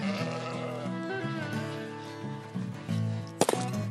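Sheep bleat on a farm in wavering, drawn-out calls over steady tonal background sound, ending with a sharp knock.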